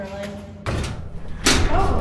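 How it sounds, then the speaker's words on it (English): A secret knock on a door comes as two heavy, separate thuds, loud and close, with a short gap between them. "Just gotta give the secret knock."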